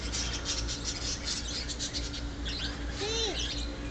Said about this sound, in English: Let's come see the birds.